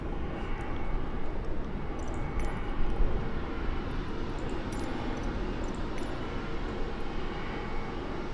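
Steady broadband engine rumble of an aircraft passing by on a flight from Kathmandu to Paro over the Himalaya, a constant dense roar without clear rise or fall, heard with no talking.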